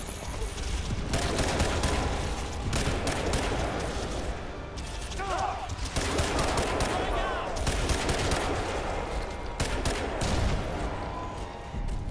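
Machine gun fire in the Crysis 2 game, rapid crackling bursts of automatic fire that come and go across the scene, mixed with game effects and some talking.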